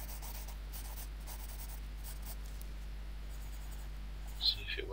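A pencil moves across paper while drawing a fantasy soldier's metal helmet, a faint, continuous soft scratching over a low steady hum, with a brief louder stroke near the end.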